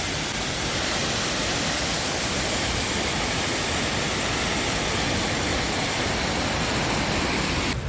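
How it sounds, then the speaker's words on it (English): Man-made waterfalls in Wichita Falls, Texas, give a steady, dense roar of falling water, loud and unbroken throughout with no voices over it. "It's just like man-made waterfalls in the middle of Texas"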